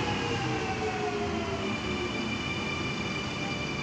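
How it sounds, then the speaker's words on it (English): A passenger train arriving at a station platform rumbles steadily with a low roar and faint squealing tones from the wheels, sustained throughout and fairly distant. "Schofield service arriving into platform 1"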